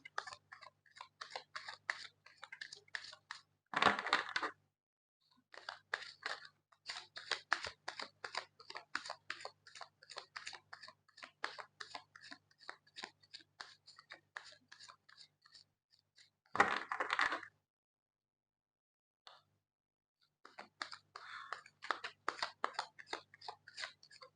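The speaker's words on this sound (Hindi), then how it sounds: "जब तक मैं कार्ड शफल कर रही हूँ" Tarot cards shuffled by hand, a long run of quick crisp riffling and flicking bursts broken by short pauses and a couple of louder swishes, close and alone with no talking.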